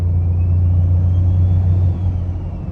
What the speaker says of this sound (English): That is a stainless 5 blade, and they are ridiculously loud.